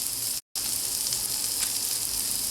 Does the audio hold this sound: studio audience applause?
no